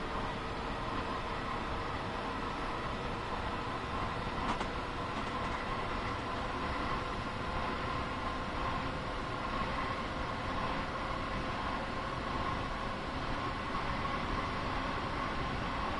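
A Long Island Rail Road local train in the Train Sim World video game runs through snow toward New York Penn, a steady unbroken rumble and rail roar with no talk.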